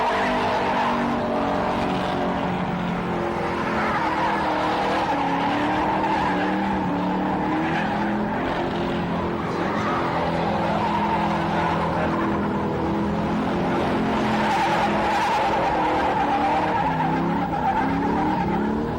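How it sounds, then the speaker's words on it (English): Sustained, loud tyre squeal and engine roar from 1980s street machines doing donuts at Summernats, with front wheels locking and skating in a continuous smoky screech. "The front wheel locked up there as he does his darndest in the donut section."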